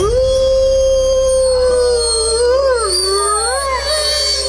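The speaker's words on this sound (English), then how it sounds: "Alpha members often take the lead, using threatening howls and postures to show their power." Members of a wild canine pack let out threatening howls, long overlapping wails that rise and fall, loud and close, over a steady low rumble.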